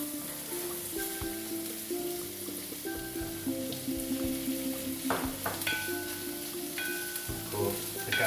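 Red, white and spring onions sizzle and fry in a couple of spoonfuls of oil in a pan, with a steady close crackle, a few brief scrapes and stirs breaking through.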